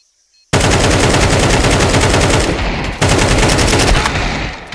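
Continuous automatic AK rifle fire from the Counter-Strike game, a dense, loud, unbroken rattle of rapid shots lasting several seconds after a brief silence, with a small break midway.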